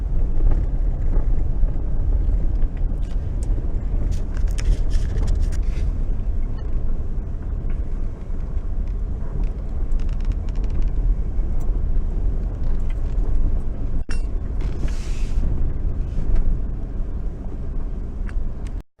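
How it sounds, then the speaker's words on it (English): A truck drives along a coastal road, a steady low rumble of engine and road noise heard from inside the cab, continuous and fairly loud until it cuts off at the end. "All right, I parked the truck"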